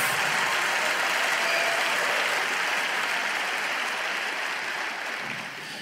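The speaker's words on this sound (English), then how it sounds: "Clap your hands and shout about it just a minute." A church congregation claps loudly during a sermon, a thick continuous wash of many hands that holds steady and then starts to ease off toward the end.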